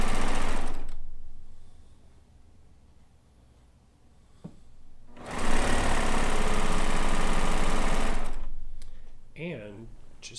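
A sewing machine piecing quilt tops runs in loud, steady bursts, starting at once, pausing through a quieter stretch, then stitching continuously again before stopping, close by, with a brief voice at the end.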